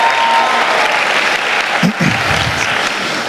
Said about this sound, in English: Can I get one quick round of applause for Katie Bergen and her whole staff